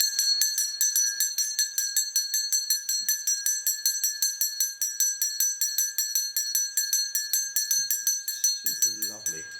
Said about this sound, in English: here also is it's one of the most unusual bells I've ever had